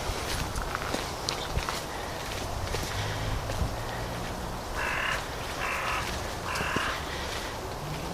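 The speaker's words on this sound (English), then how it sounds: "Well, we can hear the crows." Crows caw in a few short bursts, some distance off in darkening woods, over a hiss of wind and rustling footsteps through undergrowth.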